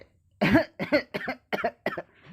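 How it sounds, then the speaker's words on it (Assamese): A person coughs about five times in quick, short bursts, close and fairly loud, with brief pauses between them. "কিছুদিন ধৰি বৰ কাহ হৈ আছে, চৰ্দিও হৈ আছে"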